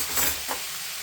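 A spoonful of butter sizzles in a hot pan on lowered heat while beef stew cooks, a brief, soft crackling hiss.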